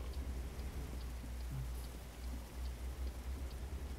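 Rain patters in the American Truck Simulator game, a soft steady drizzle of drops over a low engine-like rumble, moderately quiet and without voices.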